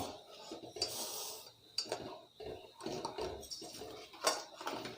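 A spoon stirs sugar into thickening milk for kulfi in a metal pan, with repeated close scrapes and light clinks that come in irregular strokes.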